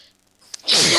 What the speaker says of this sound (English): I can stop for my sneezing fit.